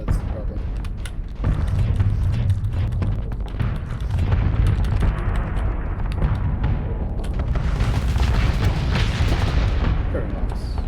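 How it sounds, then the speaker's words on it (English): An enemy ship explodes in the space combat video game Starsector, producing a loud, sustained rumbling roar of blasts and booms with layered mechanical noise. "we didn't even suck in half the enemy explosion either"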